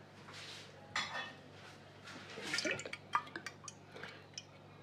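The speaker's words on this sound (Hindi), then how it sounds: "इसके ऊपर थोड़ा ऑयल जाएगा" Oil drizzled over seekh kebab biryani in a pot, heard as a few close light drips and clinks of utensil against cookware, scattered and quiet with a faint hum beneath.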